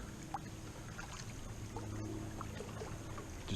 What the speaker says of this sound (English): just paddling my way along the shoreline here today